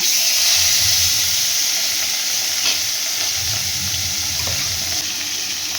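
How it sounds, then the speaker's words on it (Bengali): Marinated parshe fish hisses in hot oil, a loud steady sizzle with occasional soft low bumps from the pan. "এবারে আমি তেলের মধ্যে পার্শে মাছগুলোকে দিয়ে দিচ্ছি"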